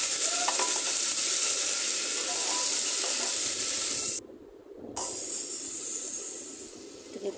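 Onion, ginger, cumin and turmeric masala sizzles in a hot pan while being stirred, a loud steady frying hiss that briefly dips before resuming.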